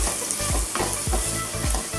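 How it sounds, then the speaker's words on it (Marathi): Carrot pickle with salt and turmeric is stirred close up, with rhythmic scraping strokes about every half second over a dense, wet hiss. "आता हे मिक्स करून घ्यायचं आहे सगळं"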